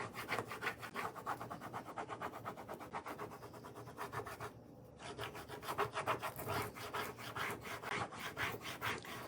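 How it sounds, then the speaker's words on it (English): Steady back-and-forth rubbing on a transfer laid over a wooden Christmas card holder, a quick rhythmic scrubbing that runs almost nonstop, close and fairly loud, with one brief pause midway. "sure you give a nice little rub to the whole entire transfer"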